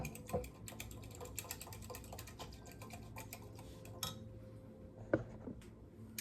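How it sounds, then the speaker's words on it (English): A small metal whisk clicks rapidly and steadily against a bowl while taco seasoning sauce is stirred, a quiet run of ticking taps with a couple of louder knocks near the end, with no voices. "these little metal whisks are the best kind for stirring up taco seasoning sauce"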